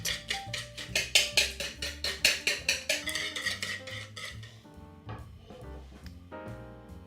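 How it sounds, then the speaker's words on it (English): Sugar and a pinch of salt whisked together in a bowl for lemon swirl cake batter: quick, even strokes in a steady rhythm for about three seconds, then thinning out, with music playing underneath. "Whisk it all up, just until it's nicely mixed."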